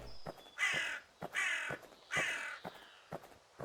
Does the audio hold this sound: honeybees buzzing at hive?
no